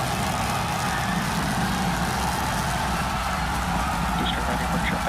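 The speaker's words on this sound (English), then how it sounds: "Down to 3 engines." Rocket engines of a SpaceX Super Heavy booster during its landing burn, down to three engines as it comes in for a tower catch, make a loud, steady, broadband roar throughout, with voices talking over it.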